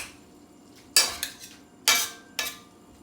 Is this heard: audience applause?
no